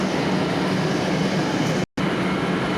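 A crowded metro train in motion during the after-office rush, a loud continuous roar of wheels and carriage noise that cuts out abruptly for a moment before resuming.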